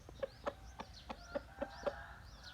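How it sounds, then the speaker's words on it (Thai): A breeding rooster on a farm, out grazing on grass, clucks in a steady series of short, close calls, about eight in a row, with faint chirps in the background. "วันนี้นำไก่พ่อพันธุ์หลักทางฟาร์ม ออกมากินหญ้าครับ"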